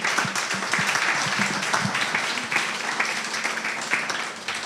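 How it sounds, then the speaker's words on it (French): An audience at a gathering honouring great doctors of Martinique applauds a doctor, a continuous rattle of clapping over a few seconds with faint talk mixed in. "Vous pouvez applaudir le docteur."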